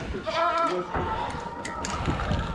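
Sheep bleat nearby in a few wavering calls, mixed with background farm noise and some faint voices.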